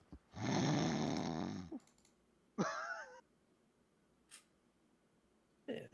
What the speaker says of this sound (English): loud ass snoring.